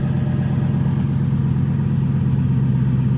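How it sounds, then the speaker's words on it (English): A TVR sports car engine idling steadily after a blown 100 amp fuse was replaced, a low, even rumble with no revving, close and continuous throughout. "Engine running"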